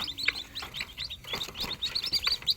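Small caged birds chirp and tweet in quick, overlapping bursts as a cage is opened and they fly free, fairly close and continuous over a faint background, with no talking.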